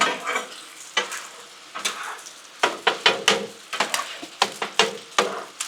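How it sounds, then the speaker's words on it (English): Six eggs frying on a Blackstone griddle greased with sausage and bacon drippings and LumberJack seasoning, a steady close sizzle broken by repeated sharp scraping taps of a spatula, with no voices. "6 eggs on the griddle."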